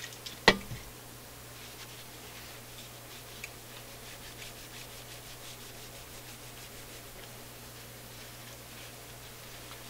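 Faint, close rubbing strokes as an alcohol-soaked cloth cleans a part of a Majestic Model 1A59 tube radio, over a low steady hum, with one sharp click near the start.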